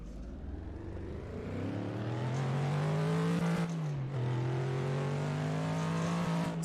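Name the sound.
movie car engine revving while being driven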